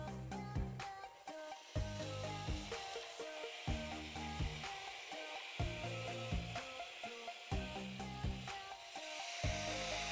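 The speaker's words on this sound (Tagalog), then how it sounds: "O diba guys ang lakas nitong FlyDigi B6X cooling fan." A FlyDigi B6X magnetic cooling fan runs at max power, giving a loud, steady airy whir with a repeating pulsing hum close up, and no one speaks.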